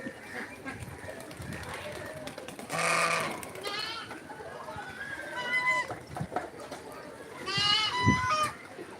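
Several goats bleat in short, wavering calls, a few seconds apart, on a farm with ducks and pigeons, over a busy outdoor background with some talking.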